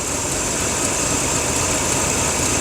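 A 2005 Dodge Dakota engine idles roughly with a steady, close mechanical drone, alone and unchanging over a few seconds.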